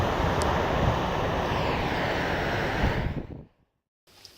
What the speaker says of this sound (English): And this is another view of the sea breaking on the rocks.